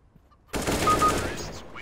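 Sudden burst of gunfire in CS:GO after a short quiet moment, a sharp rattling blast that rings out and decays over about a second.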